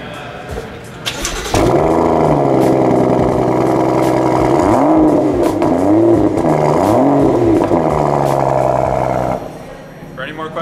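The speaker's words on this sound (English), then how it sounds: "Now let's start it up to give you an idea of what that exhaust sounds like." A 2015 BMW 335i with dual exhaust starts up loudly, then revs several times in rising and falling blips before settling back to idle, close and alone.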